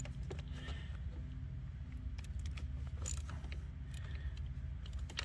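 Bolt being loosened and removed from a Lincoln Town Car engine during a coil pack change, a series of faint creaks and metallic clicks from a ratchet over a steady low hum, with no talking.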